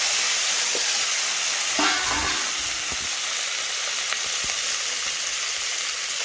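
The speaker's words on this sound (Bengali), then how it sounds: "এই দেখুন এখন এই তেলের মধ্যে কুমড়োটা আমি দিয়ে দেব।" Pieces of pumpkin frying in hot oil, a continuous loud close sizzle and hiss with a few faint stirring knocks and clinks.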